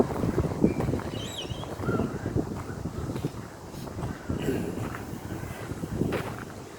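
Gusty wind buffets the microphone outdoors on a chilly day in a park, rumbling in uneven bursts under intermittent talk.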